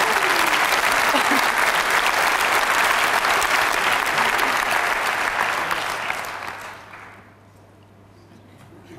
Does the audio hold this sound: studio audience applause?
yes